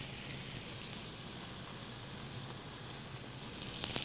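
Oil hissing against a lemon half grilling in a hot pan, a steady even sizzle heard close up that swells slightly near the end, with no talking.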